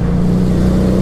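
FKM Victorino 250i V-twin motorcycle engine running loud and close, a steady deep throbbing note held evenly with no pause.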